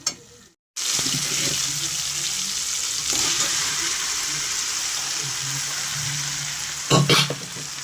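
Boiled jackfruit pieces drop into hot spice masala for a prawn dish and fry with a loud continuous sizzle after a brief silence, with occasional stirring scrapes near the end.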